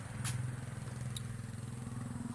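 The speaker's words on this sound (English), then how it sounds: "this is my auntie tractor" Rural Thai farm tractor engine idling steadily nearby, a low chugging rumble with even rhythmic pulses, with faint brief clicks over it.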